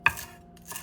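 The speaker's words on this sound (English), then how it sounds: "Then chop some green onion tops for garnish." A single sharp knife chop on a board cuts green onion tops, followed by a softer second cut less than a second later, close and crisp.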